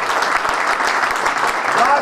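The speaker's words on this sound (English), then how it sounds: "Let's give a round of applause." Many guests at a New York City Council fundraiser clap for a restaurant owner, a close, even wash of applause with a few sharper claps standing out.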